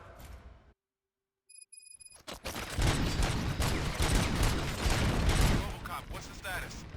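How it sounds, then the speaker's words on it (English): Gunfire breaks out in the RoboCop: Rogue City video game, a loud dense burst of shots and action noise after a brief silence, continuing steadily for several seconds. "Gunshots? What's going on?"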